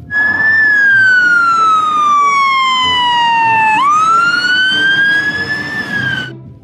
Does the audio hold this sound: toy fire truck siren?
yes